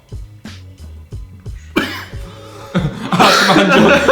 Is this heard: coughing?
yes